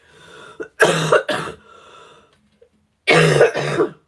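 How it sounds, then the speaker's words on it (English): Two pairs of harsh, close coughs, each a quick double burst, separated by a brief quiet pause. "this cough is just killing me"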